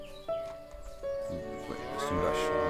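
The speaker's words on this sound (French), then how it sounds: "Ouais, c'est une vache." A cow moos in the farming video game Everdream Valley: one long, loud, tonal low call that rises and swells over nearly three seconds, set against steady game background music.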